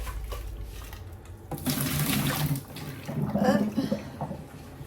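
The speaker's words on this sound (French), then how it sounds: "je vais jeter l'eau." Hot water from cooked corn is tipped out of a pot into a sink, a splashing rush in two bursts with a gurgling pour, heard close after some faint handling noise.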